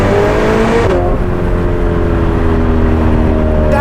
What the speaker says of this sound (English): That exhaust system is perfection.